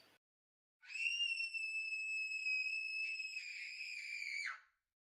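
A girl lets out a long, sustained, high-pitched screech as a sound effect, loud and piercing and held for about four seconds before it cuts off, with no talk over it.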